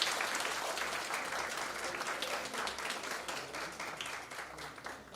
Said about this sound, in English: a big round of applause for Annapurna ma'am.